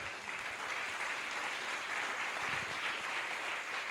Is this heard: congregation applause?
yes